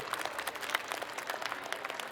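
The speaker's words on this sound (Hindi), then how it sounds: "आज जो इस परिवार में शामिल हुए हैं उनका भी तालियां बजा के एक बार अभिनंदन कीजिए" Crowd applause at a political rally in Matiyala, Delhi, as new members are welcomed: a short burst of dense clapping, fairly steady, with no voices heard over it.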